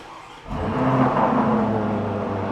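A preowned luxury car's engine starts up at a showroom in Delhi, catching quickly and then settling into a steady, fairly loud close-up hum and rumble that holds to the end.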